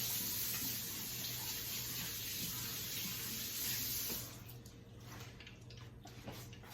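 A kitchen tap runs steadily while hands are washed, a soft continuous hiss of water that drops off partway through, leaving quieter splashing and drips.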